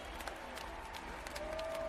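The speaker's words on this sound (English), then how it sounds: "get the applause, get the applause, get the applause" An audience applauds at a wrestling awards show as a women's wrestler of the year is honoured, a brief burst of clapping and crowd noise with a faint tonal voice running through it.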